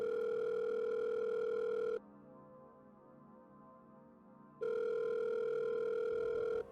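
A phone ringback tone sounds twice, each a long steady electronic buzz of about two seconds separated by a quiet gap, with no speech.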